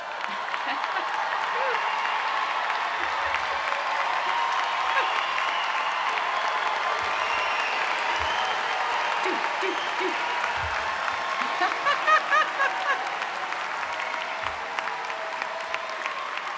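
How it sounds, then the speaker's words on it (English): A large commencement audience for Duke's class of 2025 breaks into sustained applause and cheering, a dense steady roar of clapping with shouts rising above it, loud and continuous throughout. "Feel free to cheer, and if you want, stand up and celebrate your graduates"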